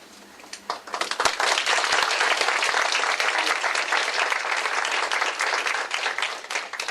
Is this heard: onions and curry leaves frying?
no